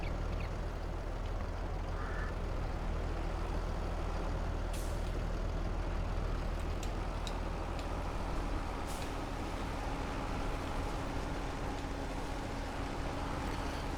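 A Volvo truck in Farming Simulator 22 hauling a root crop, its steady engine drone running close and continuous, with a couple of sharp air-brake hisses and faint clicks rising over it.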